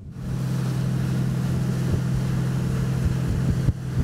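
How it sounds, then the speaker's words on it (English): A Ranieri Next 290 SH motorboat cruises at low speed, its engine a steady loud drone mixed with rushing water and wind, with a brief thump near the end and no talking. "In the meantime, we have reached a speed of 15 knots, so a low cruising speed. We push a little bit more."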